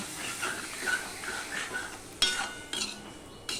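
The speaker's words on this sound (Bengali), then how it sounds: "এবার আমি একটুখানি জল দিয়ে দিলাম দিয়ে মশলাটাকে আমি কষিয়ে নেব" A spoon stirs spice paste with turmeric and a splash of water in a pan, giving soft repeated scraping strokes over a faint sizzle, followed by a few sharper clinks of the utensil against the metal.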